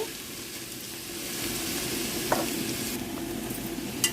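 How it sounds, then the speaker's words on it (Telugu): Grated carrot sizzles in hot ghee for carrot halwa, a steady close fry with soft stirring scrapes and a couple of sharper clinks of the utensil against the pan, without talk. "క్యారెట్ ఇప్పుడు వేసుకుందాము ఇది బాగా ఈ నెయ్యిలో వేగిపోవాలి"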